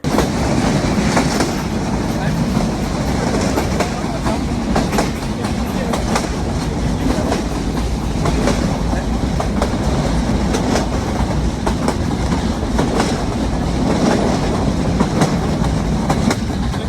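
The Chitra Express passenger train runs on rails between Khulna and Kotchandpur in Bangladesh, heard from on board as a steady, loud rumble with continuous wheel clatter and faint voices in the carriage.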